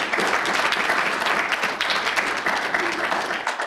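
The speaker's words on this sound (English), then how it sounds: "You should always hold applause till the thing's over with" Audience applause welcoming a speaker at a talk, a steady dense burst of many hands clapping, loud and sustained for a few seconds before tapering at the end.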